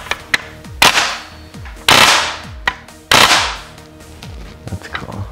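Several sharp, loud shots from an Umarex Legends M1A1 fully automatic BB gun, each a hard crack followed by a brief hiss, fired in separate bursts about a second apart, with light mechanical clicks between them.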